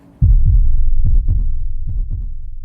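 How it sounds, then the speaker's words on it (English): Heartbeat sound effect with deep, muffled low thumps in a lub-dub rhythm, several beats in close succession, loud and alone without any talk. "As the heartbeat..."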